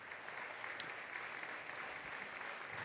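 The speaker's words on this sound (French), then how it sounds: "On va laisser applaudir." Soft, steady applause from an audience at a talk event, a distant wash of clapping that holds evenly for a few seconds with no voices over it.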